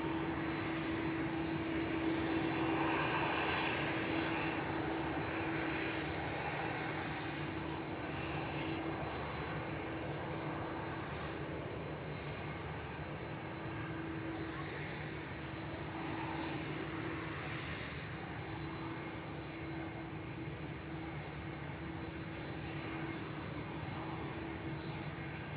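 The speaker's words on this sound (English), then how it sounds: "A380 arrives and then 3 heavies are going." At Manchester Airport, an Airbus A380 arrives while heavy jets depart, producing a long, continuous jet-engine roar that stays loud and dense the whole time, with a faint whine riding on top and no voices.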